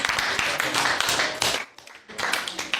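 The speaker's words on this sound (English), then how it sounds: "give a round of applause" A class of students gives a round of applause indoors, a lively cluster of sharp overlapping hand claps with a brief dip partway before clapping picks up again, faint voices mixed in.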